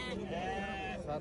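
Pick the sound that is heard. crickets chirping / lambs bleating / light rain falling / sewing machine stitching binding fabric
lambs bleating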